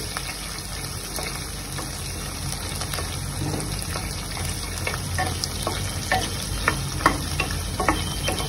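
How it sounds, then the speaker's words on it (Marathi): Finely chopped green chillies sautéing in oil over a medium-low gas flame, giving a steady close sizzle with scattered crackles and occasional stirring scrapes throughout, no talking. "ह्याला पण चांगलं तेलामध्ये मी चांगलं परतून घेतेय"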